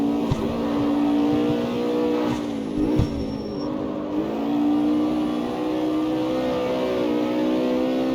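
A Mustang in the CarX Street racing game holds a steady, loud engine drone that rises and dips as it revs and accelerates, filling the whole stretch without speech.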